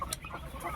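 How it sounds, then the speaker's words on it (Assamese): Local hens, about twenty of them, in a small coop floored with rice husk, giving a couple of quiet close clucks over low background noise. "ইয়াত 20টা বা 21টা মুৰ্গী আছে আমাৰ ইয়াত"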